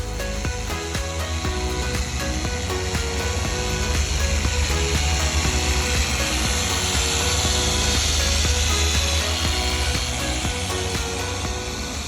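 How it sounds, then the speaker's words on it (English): A power tool polishes a boat hull during restoration, giving a loud, steady whirring drone with a faint rhythmic pulse that runs unbroken from start to finish, with no voices. "This right here is the important step of polishing."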